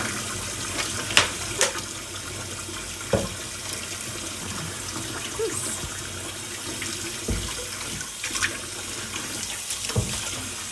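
Water runs steadily from a tap into a kitchen sink during dishwashing, a continuous close splashing rush broken by a few sharp clinks of dishes, with no talking.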